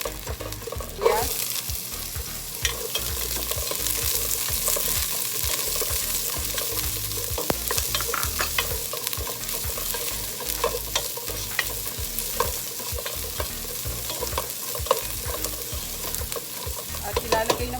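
Onions frying in a hot pan for Kapampangan pork menudo, a steady close sizzle with repeated scraping and clinking of a spatula as they are stirred, continuous for the whole stretch.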